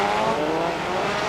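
Race cars on a circuit, a dense, loud engine roar held steady for a short moment with no voices.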